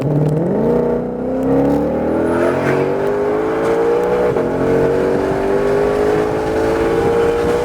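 A 2020 Shelby GT500 accelerates hard on a track to pass a red Ferrari, its engine note climbing steadily and loud in a continuous close roar without a break.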